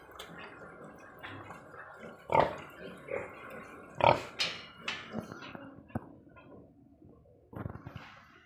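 Large White piglets on a pig farm grunt and oink in a run of short, close, loud snorts, with a few sharper squeals standing out over rustling pen noise.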